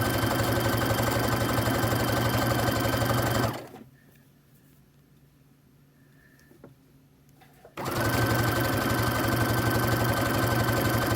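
A sewing machine stitches a fabric scrunchie with a fast, steady mechanical whir, loud and close, stops for about four seconds of near silence, then starts up again at the same pace.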